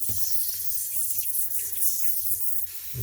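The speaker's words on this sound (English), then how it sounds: "this is leaking right here on this hose" Water hisses and sprays steadily from a failed stainless steel braided faucet hose under a bathroom sink, a close, continuous leaking spray with slight fluctuations.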